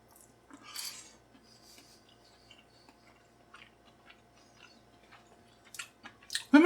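Quiet close-up chewing of beef chili with rice, soft wet mastication and small squishes with occasional light cutlery clinks, ending in a louder clatter.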